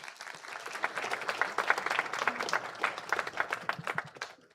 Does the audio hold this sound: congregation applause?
yes